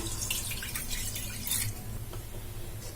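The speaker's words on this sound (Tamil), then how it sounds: "ஸ்டவ்வில் வந்து ஒரு கடாய் வச்சுக்கலாம் இதில் வந்து ஒரு கப் அளவுக்கு தண்ணி எடுத்திருக்கேன் இதை வந்து நம்ம இதில் ஊற்றிடலாம்" A cup of water is poured into a kadai sitting on a stove, giving brief splashing and trickling bursts near the start and middle before settling into a quieter background hum.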